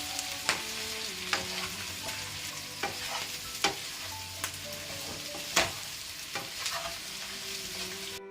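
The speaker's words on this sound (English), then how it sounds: "Now I'm going to add the cauliflower batter, which I fried and kept. I'm just going to mix it." Battered fried cauliflower, onion, garlic and ginger stirred in a hot pan for gobi manchurian: a soft continuous sizzle broken by repeated sharp spoon scrapes and knocks at an uneven pace, close and clear, with no talking.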